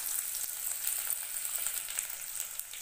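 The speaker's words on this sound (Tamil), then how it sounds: "அடுத்து வந்து பூண்டு ஆட் பண்ணிக்கலாம், ஸ்லைஸ் பண்ணி வச்சுருக்கேன், இதை ஆட் பண்ணிக்கலாம்." Sliced garlic fries in oil over a low flame for South Indian garlic rice, giving a steady, close, bright sizzling hiss that continues evenly throughout with no voices.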